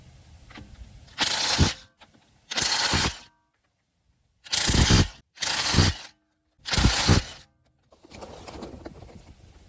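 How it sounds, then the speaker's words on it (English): A ratchet on a 21 mm socket loosens factory lug nuts on a 2009–2014 Nissan Maxima wheel: five loud, close bursts of fast metallic clicking separated by silent pauses, with a fainter sixth burst at the end. "I'm gonna take the wheel off first. And these are factory lugs, so it's 21 mil."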